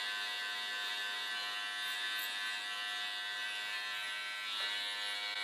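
Electric hair clippers buzz steadily and close while trimming a man's sideburns during a haircut, a continuous bright electric hum with no talking.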